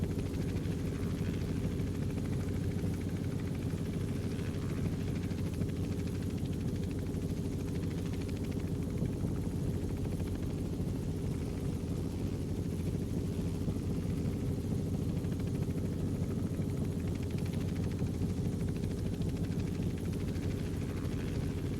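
A simulated Robinson R44 helicopter in flight gives a steady, continuous rotor and engine drone that holds an even level for the whole stretch, with no voices.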